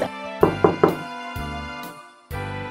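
Knocking on a door in an animated cartoon: three sharp, close knocks in quick succession over a sustained musical backdrop, followed by further staccato musical hits.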